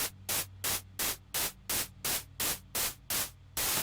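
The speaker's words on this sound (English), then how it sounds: "this is the noise oscillator. So let's listen to this. It should just be noise." Bursts of broadband synthesizer noise pulse on and off about ten times in a steady rhythm, each hiss sharp-edged and loud, with a low hum underneath.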